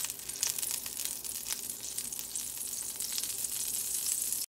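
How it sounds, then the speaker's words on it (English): Butter melting in a skillet before salmon goes in, giving a continuous close sizzle with fine crackling and popping, softly rising and falling but never stopping. "I'm gonna just melt this butter"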